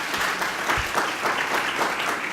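An audience at a Haitian Creole-language event applauds steadily, a dense, even wash of many hands clapping at moderate loudness with no speech over it.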